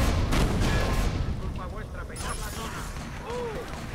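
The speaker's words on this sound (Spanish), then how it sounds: "¡Sorpresa de fuegos artificiales!" Booming fireworks bursts in the PC video game Watch Dogs, loud and rumbling at first, then followed by whistling, crackling trails and scattered pops.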